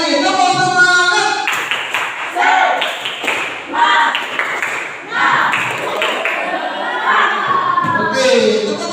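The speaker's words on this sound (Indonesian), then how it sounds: "Sekali lagi, tepuk semangat." Students in a classroom perform a rhythmic spirit clap, a dense run of loud group claps mixed with children's shouts and voices throughout.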